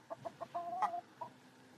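Chickens at an animal sanctuary cluck close by, a quick run of short rhythmic clucks followed by a louder squawking call and a softer final cluck.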